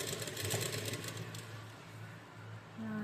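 A sewing machine stitching lace onto a dupatta for an umbrella frock, giving a steady mechanical whir with a humming motor tone that runs continuously and fairly quietly for a few seconds.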